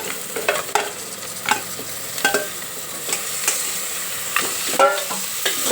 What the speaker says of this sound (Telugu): నూనెలో మంచిగా ఫ్రై కానివ్వాలి